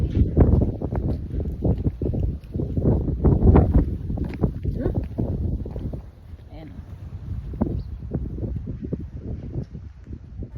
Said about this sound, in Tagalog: Natatakot nga pala ako nung umakyat kami dito kasi sobrang lakas ng hangin.